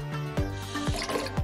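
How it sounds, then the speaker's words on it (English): Water is poured into a pot already holding honey and oil, giving a close, trickling splash with a rhythmic dripping, gurgling pattern over about a second and a half. "I'm going to just put some water in this."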